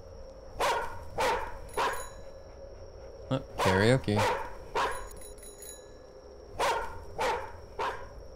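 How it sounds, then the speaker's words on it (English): A dog barks repeatedly in the horror video game The Karaoke, loud sharp barks in an uneven series with a cluster of rapid yelps in the middle, and a voice speaks briefly. "That dog sounds so loud."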